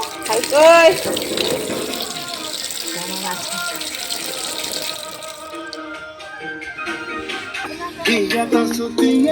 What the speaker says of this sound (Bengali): এতিয়া ধৰিছোঁ মাছ তুমি ধুই লওঁ